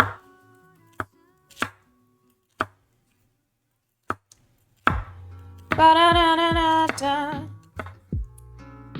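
Celery being chopped on a board: a few sharp, spaced knife strikes, then a voice briefly overlaps as denser chops follow, close and fairly loud.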